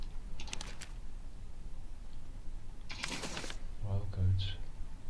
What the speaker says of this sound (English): It's an old elegant typewriter.